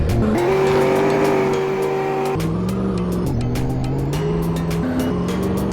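Racing car engines whine and shift pitch with tire squeal in Roblox Greenville, with sharp impact clatters scattered through the latter half as vehicles collide, loud and close.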